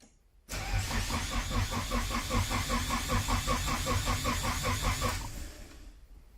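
Nissan S13 240SX turbo engine being cranked in a start attempt: the starter grinds in a steady, rapid rhythmic churn for about five seconds and then cuts off without the engine catching.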